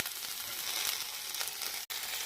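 Chopped tomatoes fry in a pan for kazhani rasam, giving a steady close-up sizzle and crackle throughout, with one brief break near the end.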